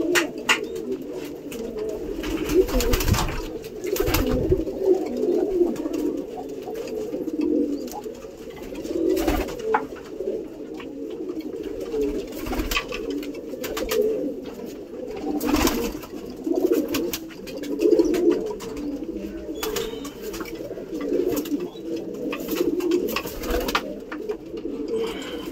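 Pigeons coo steadily in a low, throaty rumble through the whole stretch, several birds overlapping in a dense, continuous chorus at close range with occasional louder bursts and no talk.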